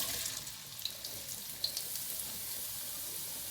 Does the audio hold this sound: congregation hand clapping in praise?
no